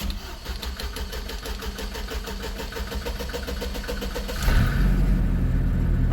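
A car engine is started with a scanner hooked up: a rhythmic starter cranking runs for several seconds, then the engine catches with a louder rumble and settles into a rough idle, close and without talk.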